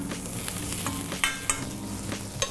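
Champignon mushrooms fry and caramelize in a pan while a spoon stirs them, giving a close, steady sizzle with a few sharp scraping clicks, and no voices.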